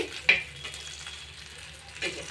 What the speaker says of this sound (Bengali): শুকনো মরিচ ভাজা